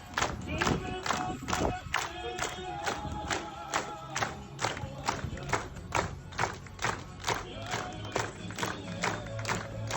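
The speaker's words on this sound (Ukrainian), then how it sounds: "А на прощання супроводжували його оплесками" Mourners applaud at the funeral farewell for a singer, a crowd clapping in rough rhythmic bursts with sharp repeated claps and murmuring voices underneath, sustained and fairly close.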